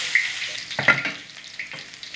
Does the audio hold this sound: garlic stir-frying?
yes